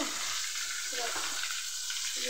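Fish frying in a pan, a constant loud hiss of hot oil with soft bubbling and faint stirring scrapes, close and uninterrupted.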